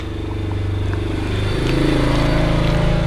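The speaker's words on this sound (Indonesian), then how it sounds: "Motor lewat." A motorcycle passes close by on a busy street next to a crowded food cart, its engine a loud, steady drone that swells slightly as it goes past.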